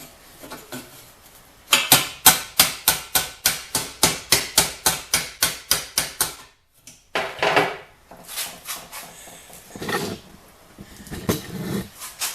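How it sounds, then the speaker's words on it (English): A hammer strikes a chisel clamped in a vise, used as a tinsmith's bick, in a quick, even run of about twenty sharp metallic blows close by. After a short pause come a few scattered, louder knocks and scrapes. "We'll use this chisel and the vise like a Bic."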